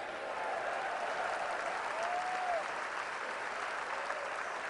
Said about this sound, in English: Now clap your hands and believe what Jesus said.